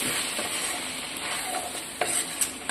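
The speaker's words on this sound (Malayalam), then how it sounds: "നമുക്കിത് നന്നായിട്ടൊന്ന് മിക്സ് ചെയ്യാം" Spice powders, coriander and garam masala, being stirred into a brinjal curry in a hot pan, a continuous soft sizzle with scraping stirs and a few sharper spoon clicks near the end.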